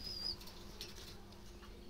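A brief flurry of wild Jalali pigeon wings flapping close by, over a steady low background rumble, with a faint high chirp at the start.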